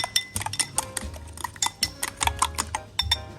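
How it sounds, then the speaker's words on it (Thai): An egg is beaten briskly with a utensil against a bowl to make a homemade egg plant hormone, a close run of quick, rhythmic clicks and taps, alone and fairly quiet. "ตีไข่เลยค่ะ"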